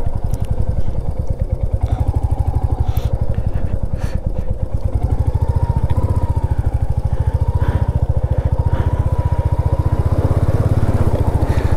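A motorcycle engine runs steadily close by as a rider pulls away on a Ladakh road trip through Puga Valley toward Hanle, a loud continuous rumble with some clatter, no talk.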